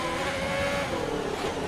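A race car in a racing video game steps out into a little oversteer: a steady, loud engine drone with a faint squeal from the tires running through the short stretch, with no talking.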